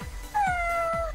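An electronic cat-meow alert from an iTag pet tracker: one clear, drawn-out synthetic meow, close and isolated over a faint background.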